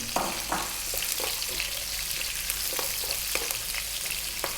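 Onion sizzling in hot oil with red chili and cumin seeds in a curry pan, a continuous close frying hiss with occasional stirring clicks and scrapes.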